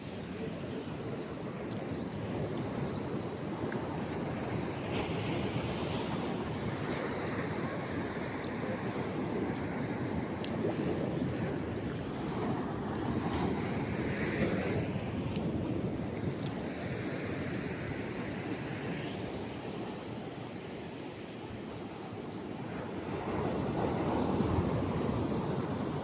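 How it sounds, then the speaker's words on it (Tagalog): Strong ocean waves roll and crash continuously on a shore, a loud broad wash mixed with wind buffeting the microphone, swelling again near the end. "Lakas ng alon."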